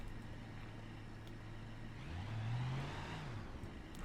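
A custom-built D-Series off-road truck on a hard trail in The Long Crawl revs its engine, a faint low drone that swells and climbs in pitch over a couple of seconds before easing off, with no talking.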